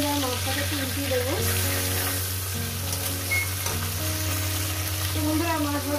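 A whole lailontika fish, just flipped, frying in hot oil with a continuous close crackling sizzle, dense and loud from start to finish.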